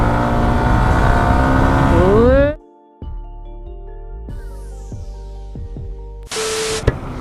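Yamaha R15 M motorcycle engines on a night ride: loud revving rises in pitch, then drops after a pause to a steadier engine drone with repeated throttle blips and gear changes, ending with a brief harsh burst.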